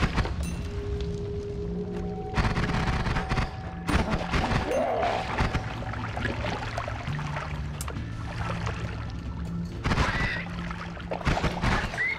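Rapid-fire dual-cast spells blasting away in the game Noita, a dense, continuous barrage of shots and thuds layered over droning tones, steady and loud throughout with no talking.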